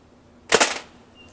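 A single sharp Nerf Mega Centurion blaster shot, a loud close crack with a brief airy burst that fades quickly, alone without talk.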